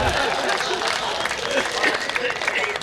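Audience applause at a Hindi comedy poetry gathering (hasya kavi sammelan), a steady, dense wash of clapping from a crowd that holds at an even level for the whole stretch, with no clear pauses.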